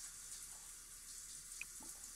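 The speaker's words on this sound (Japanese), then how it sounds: "気持ちよさそうにシャワー浴びてる。" Shower running in The Sims 4, a faint, steady spray of water with no talk.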